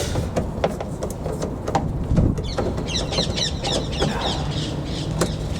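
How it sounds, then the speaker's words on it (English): Busy chirping and twittering of several birds outdoors, steady and fairly close, with scattered clicks and background noise throughout. "You get lots of birds in this area if you can hear all that."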